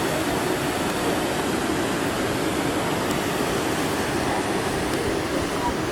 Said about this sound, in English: The hot water is coming out.